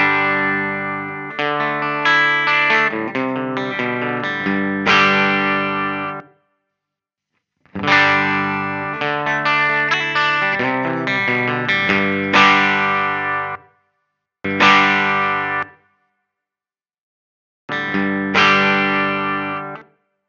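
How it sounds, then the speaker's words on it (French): A clean electric guitar tone recorded through a Captor X load box: bright strummed chords and picked notes in several phrases, with short silences between them and no voices. "Alors, son clair du Captor."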